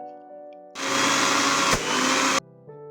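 A blender grinds green peas and green chillies into a paste: a loud, steady whirring roar for about a second and a half, cutting off abruptly, with soft background music before and after.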